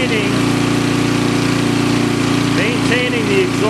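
Small gasoline engine running lean with HHO added, a steady close droning hum with even pulsing, while someone talks over it.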